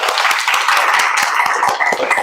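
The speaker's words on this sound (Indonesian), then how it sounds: "Tepuk tangan dulu untuk kita semua." An audience at a lecturer certification session claps in a brief burst of quick, close hand claps.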